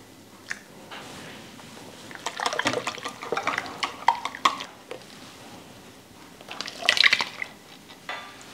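Cold milk is whisked into melted butter in a bowl for muffin batter, making irregular wet sloshing and clinking strokes that come in bursts, close up and fairly loud, with quieter stretches in between.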